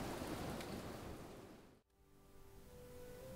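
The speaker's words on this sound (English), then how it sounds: "the rain is bothering me" Steady rain in the video game Planet Explorers, a dense, even hiss that briefly drops out for a moment before returning at a slightly softer level.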